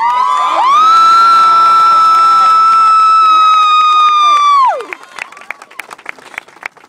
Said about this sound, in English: give yourselves a hand and scream out